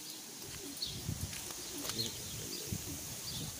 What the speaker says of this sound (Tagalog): Ganda ng mga ibon, mga tropa kalapatids, oh.